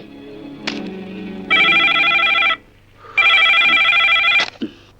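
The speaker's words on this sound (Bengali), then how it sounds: "আমি রাজাকে ফোন করছি" Two long electronic telephone rings, each lasting about a second, sound close and loud and are separated by a brief pause, with faint movement and a soft thump before and between them.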